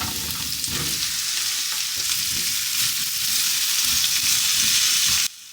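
Okra fries in a steel wok with cumin and garlic, a dense, steady sizzle heard up close for about five seconds with faint stirring scrapes, ending in a sudden drop to quieter hiss.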